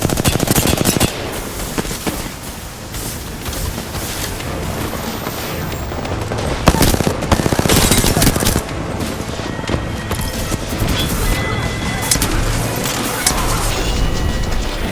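Sustained PK-47 gunfire in an Apex Legends match, loud rapid bursts and overlapping shots with impacts and crashes, continuous for about fifteen seconds with faint commentary underneath.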